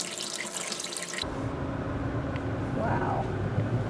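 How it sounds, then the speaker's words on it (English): Water drains steadily from a new Lexapure water filter during its second flush, a continuous close rushing and splashing like a running tap that grows fuller after a brief opening burst. "We're supposed to drain it twice, so this is the second time it's draining."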